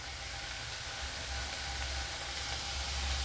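Salted onions sizzle gently in a pan while cooking for ragi kara dosai, a soft, even, continuous hiss with no voices.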